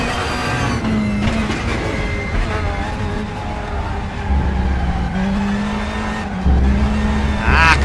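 A Honda Accord touring car in the RaceRoom racing game at Donington, its engine droning and revving steadily while tires squeal through corners, loud and continuous throughout.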